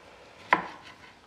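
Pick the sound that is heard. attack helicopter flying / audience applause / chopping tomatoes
chopping tomatoes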